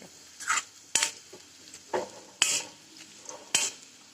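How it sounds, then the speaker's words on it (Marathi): Onion, coconut and chana dal roast in a dry pan, a quiet low background broken by about six sharp scraping stirs of a spoon against the metal, spaced roughly half a second to a second apart. "आता हे सगळं भाजून घेते मी आता बघा हे कांदा चांगला भाजला"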